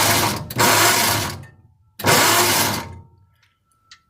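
An old engine on a 6-volt electrical system being cranked over by its starter, two long whirring, laboring bursts of about a second each with a pause between, loud and close.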